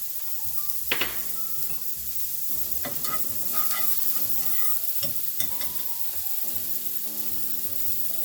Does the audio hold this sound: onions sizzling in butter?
yes